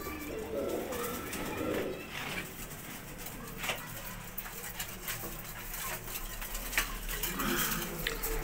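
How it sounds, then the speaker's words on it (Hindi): Paired racing pigeons coo steadily nearby, low throaty calls overlapping in a continuous murmur with occasional wing flutters. "ये जोड़ों वाले कबूतर हैं"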